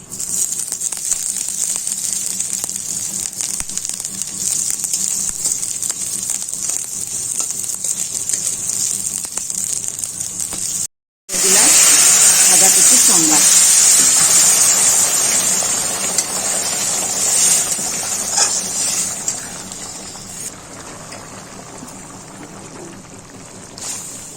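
Dried red chilies, bay leaves and chopped ginger crackle and sizzle in hot oil while making a Bengali ash gourd shukto, a steady frying hiss, briefly cut off, then returning louder with stirring and gradually easing off.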